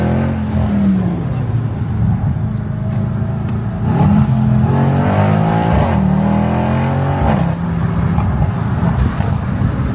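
A Mercedes-AMG E63 S with its 6.3-litre V8 rumbles nearby, its deep engine note rising and falling through several revving climbs and gear changes, with people talking underneath.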